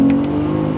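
A brief, loud automatic car engine hum holding steady, with quick blips of rev-matching during paddle downshifts into first gear near the start.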